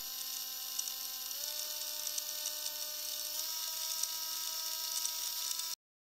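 A home-built wiper motor servo driven by a microcontroller gives a steady electric whine whose pitch steps up slightly twice, then cuts off abruptly to silence near the end.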